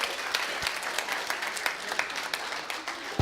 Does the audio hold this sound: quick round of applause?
yes